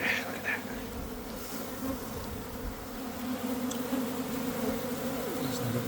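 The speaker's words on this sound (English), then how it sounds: "Got a little bit of bees right there." Bees from a hive hidden in the ground buzz steadily and closely, a continuous droning hum with individual insects flying past, and no talking.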